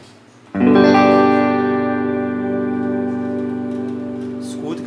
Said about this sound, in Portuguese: a gente vai observar agora, escutar o shimmer referente ao o reverb spring.